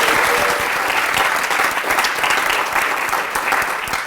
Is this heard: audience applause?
yes